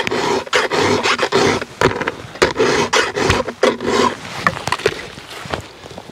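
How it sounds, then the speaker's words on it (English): A hand file rasps across saw teeth during sharpening, giving a close, loud run of short gritty strokes with brief pauses between them, no voices. "One of my least favorite jobs is filing a saw."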